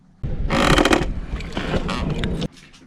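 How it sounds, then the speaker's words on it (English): A stern backline on a moored boat creaks under strain, a close, loud groaning scrape that rises, wavers for about two seconds and then cuts off abruptly. "It's the stern backline creaking."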